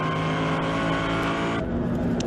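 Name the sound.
Mercedes GT race car engine, onboard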